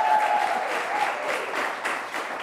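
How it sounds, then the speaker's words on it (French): Studio audience applauding during an interview, a steady wash of clapping that holds at an even level for a couple of seconds with no voices over it. "j'aimerais qu'on applaudisse pour ça."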